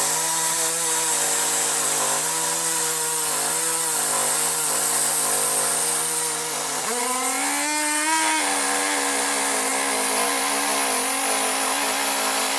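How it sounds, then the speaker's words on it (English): A Dremel rotary tool fitted with a small drum sander bit grinds beneath the surface of a taxidermy pack mount, giving a continuous high buzzing whine with a brief pitch rise midway, close and steady, with no talk. "I'm just going to take a Dremel and with one of these little drum sander bits, and I'm just going to get under the surface"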